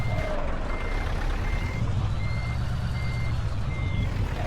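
A truck's reversing alarm in Euro Truck Simulator sounds a steady series of evenly spaced electronic beeps over a constant low engine rumble, heard alone.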